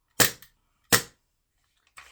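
Sig Air VFC MK25 gas blowback airsoft pistol firing two sharp, loud test shots about three-quarters of a second apart, each a crisp snap with a short rattle of the slide cycling, followed by a fainter click.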